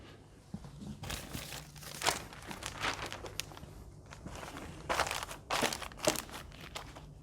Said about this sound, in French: je vais le laisser bien couvert sous un papier guitare